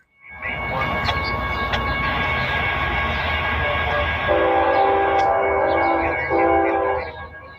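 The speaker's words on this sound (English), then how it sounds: "another stack train is rounding the curve heading west" A BNSF intermodal stack train rumbles steadily around a curve with rolling wheel noise and squeal, while a multi-tone horn sounds in two blasts toward the end.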